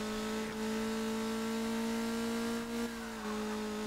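Arcade-style engine of a car in Burnout 3: Takedown holding a steady, droning rev as it drives, with slight dips and swells in pitch, fairly quiet and with no talking.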